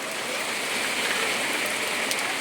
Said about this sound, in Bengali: কি হারে বৃষ্টিটা শুরু হয়েছে।